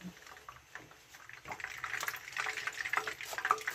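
Used cooking oil, previously used for frying pork leg, heats in a pan before tuna fillet goes in, giving a soft crackling sizzle that builds and grows busier toward the end, with faint clinks.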